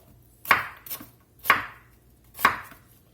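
Onions are chopped on a board with a sharp kitchen knife, three crisp, evenly spaced cuts with a softer tap between the first two, close and clear without any talk.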